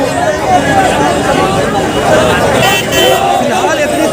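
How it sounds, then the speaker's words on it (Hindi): A large crowd gathered around a bulldozer at Shaheen Bagh, a steady, loud babble of many voices close by, with a reporter speaking over it. "कितनी ज़्यादा भीड़ है"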